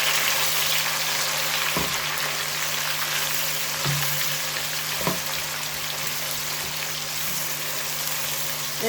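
Tomatoes go into browned onions for restaurant-style chana dal, and the pan fries with a soft, steady sizzle marked by a few faint clinks, with no talk.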